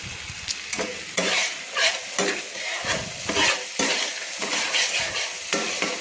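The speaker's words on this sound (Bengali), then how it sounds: "দেখুন ভালো করে মশলাটা কষানো হয়ে যাচ্ছে" A spice paste with tomato paste sautéing in a pan for a vegetarian Bengali curry, giving a steady close sizzle broken by repeated scraping stirs of a spatula at an irregular rhythm, with no voices.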